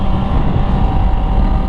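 A Honda CBR650R motorcycle engine roars loud and close, a dense continuous rumble with a steady tonal drone and heavy wind buffeting, no voices over it.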